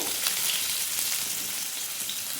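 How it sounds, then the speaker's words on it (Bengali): Chopped onion sizzles steadily in hot white cooking oil with cumin seeds, making a dense, even crackle that stays close and continuous with no talking. "পেঁয়াজটাকে আমি হালকা করে একটু ভেজে নেবো"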